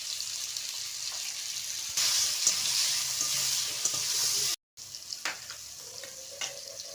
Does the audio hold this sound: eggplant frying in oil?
yes